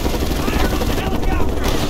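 A helicopter in the video game Mercenaries 2 roars loud and close, its heavy thrum mixed with bursts of gunfire during a faction battle.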